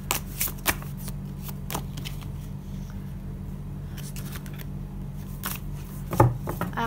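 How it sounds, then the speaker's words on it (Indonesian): Playing cards snap and riffle in crisp bursts as a tarot card is pulled from the deck, close up, with scattered sharp flicks over a quiet room hum and no talking. "Aku ngeluarin satu kartu lagi deh"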